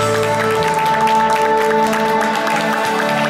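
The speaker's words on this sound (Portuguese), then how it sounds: "Uma salva de palmas para nossa homenageada" Applause at a birthday party celebration in Ponte Rasa, São Paulo, a dense steady wash of many hands clapping over a sustained musical drone, fairly loud and continuous throughout.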